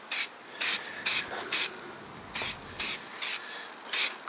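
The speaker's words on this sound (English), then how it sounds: "I'm going to just give it a light coat of the lacquer." Lacquer sprayed in short, evenly spaced hissing bursts onto polished brass fittings of an oak hall table being restored, about nine puffs in quick rhythm, close and clear with no voices.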